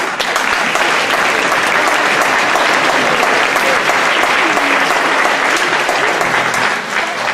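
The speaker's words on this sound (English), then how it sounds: "would y'all give them a round of applause?" A large audience claps at a 2019 OMEA District XIV honor band and orchestra concert, loud and sustained at an even level for the whole stretch.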